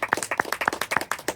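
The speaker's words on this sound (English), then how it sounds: "And I just want to personally give you a round of applause as well." Brief clapping at a housing authority appreciation event for a property handover, a few close, sharp hand claps in quick, uneven succession.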